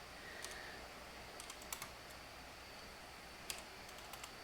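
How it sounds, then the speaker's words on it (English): Faint, sparse keystrokes tapping on a computer keyboard, a few scattered clicks against a quiet hiss of room noise. "my typing is kind of rusty."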